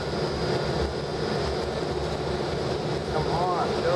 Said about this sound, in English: Come on, the airplane, you can move faster than we are.